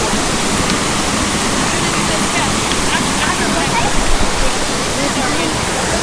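Dark Hollow Falls in Shenandoah roars as a steady, loud wash of falling water, continuous and close, with faint voices mixed into the rush.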